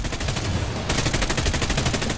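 Rapid, continuous automatic fire from the 20mm cannon of a J-21A-2 aircraft in War Thunder, a loud dense rattle with no pauses and no talking.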